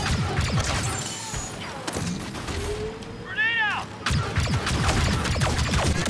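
Gunfire in a combat video game, bursts of rapid shots and clattering impacts mixed with mechanical noise, loud and close, trailing off mid-clip before resuming in heavy volleys.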